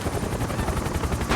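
Rifle fire in the Max Payne video game, a dense rapid burst of shots that rattles on without a break for a little over a second, loud and close, with no talking.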